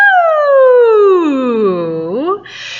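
A human voice imitating a fire engine siren, sliding smoothly downward in pitch and then swooping back up, loud and close with rich harmonics, ending in a brief breathy sound.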